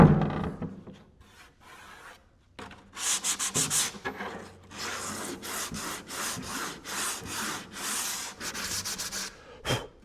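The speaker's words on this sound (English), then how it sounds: "if you have anything left on here that's shiny, like this little corner right here, still got a little clear coat on it, sand that crap off" Hand sanding of old clear coat on a 40-year-old Bass Tracker boat hull: steady rubbing strokes in rhythmic bursts, close and fairly loud, with a quieter scraping pass at the start and no talking.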